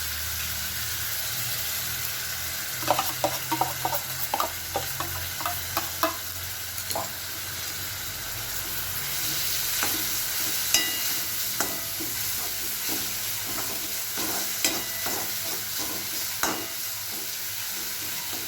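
Crushed tomatoes stirred into frying onions in a pan for a Gujarati potato curry, a steady soft sizzle broken by clusters of scraping spoon strokes, fairly quiet and close, with no talking.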